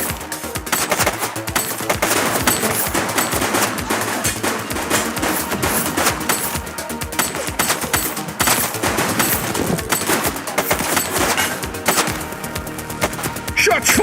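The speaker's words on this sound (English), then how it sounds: "Shots fired!" Dense, sustained automatic gunfire from a police video game, The Precinct, with rapid bursts of shots layered over each other continuously and loudly throughout.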